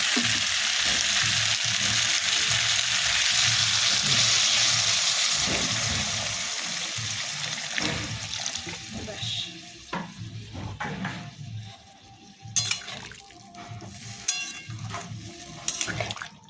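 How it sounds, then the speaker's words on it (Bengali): Water poured into a hot pan of jackfruit curry with potatoes, a loud steady sizzle that gradually fades to softer bubbling with occasional clinks of a spoon against the pan. "এরপর আলুগুলো সেদ্ধের জন্য একটু জল দিয়ে দেবো।"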